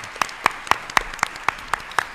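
At a live event, claps land in a steady, evenly spaced rhythm, about eight sharp beats over two seconds, close and distinct rather than a blended crowd roar.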